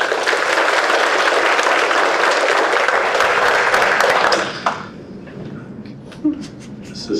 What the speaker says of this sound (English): if you want to applaud the defendants and all involved, you may do that at this time.